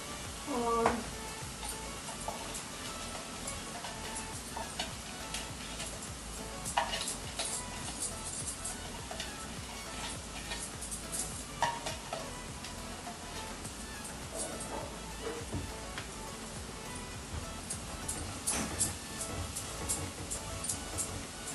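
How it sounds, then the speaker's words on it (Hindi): Peas with coriander powder, turmeric, salt and chilli sizzling and being stirred in a pan for matar sabzi, a steady soft frying hiss with scraping of a spoon and occasional clinks of cookware, close and fairly quiet. "तो बस इसे गोल्डन ब्राउन होने तक भून लेंगे अच्छे से।"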